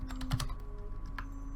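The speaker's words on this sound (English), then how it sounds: "I'm really not used to this keyboard" Quick bursts of computer keyboard typing, several crisp clicks clustered early then a few scattered keystrokes, close and fairly quiet with no talking.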